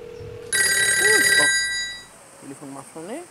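An old-style telephone bell rings loudly for about a second, then a voice answers and speaks.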